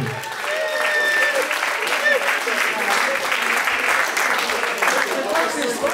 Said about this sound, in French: Est-ce que nous pouvons applaudir pour maman Sébastien?